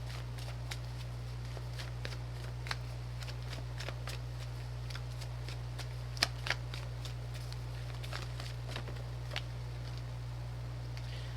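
Romance angel cards are shuffled and pulled during a Libra reading, producing faint, scattered ticks and light slaps over a loud, constant electrical hum.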